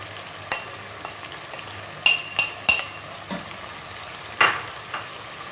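Chicken biryani base frying in a pan as biryani masala, salt, red chilli powder and turmeric go in, a steady low sizzle broken by several sharp clinks and scrapes of a spoon against the pot.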